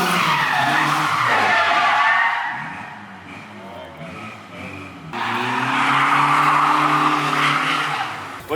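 A Nissan 240 spins its rear tires after a clutch kick in second gear, with loud squealing rubber over a revving engine that swells, dips and rises again under a short burst of talk.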